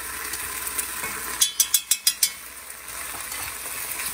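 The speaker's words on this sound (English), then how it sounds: "And stir." Curry paste stirred with coconut milk in a pan over very low heat, a soft steady sizzle broken by a quick run of five or six crisp scraping clicks of the utensil against the pan.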